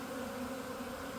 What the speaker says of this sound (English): This is the sound of a swarm.